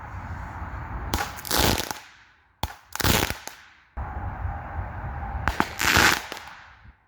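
Dragon's breath shotgun shells fired outdoors, several loud booming blasts with roaring bursts between stretches of steady background noise.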